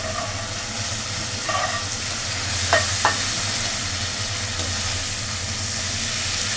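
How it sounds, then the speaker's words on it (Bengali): Snakehead fish sautés in a pan with turmeric, making a continuous close hiss with a brief stir and two sharp clinks of a utensil partway through. No one speaks. "মাছটা কষানো হয়ে গেছে, দিয়ে দেব নারকেলের দুধ।"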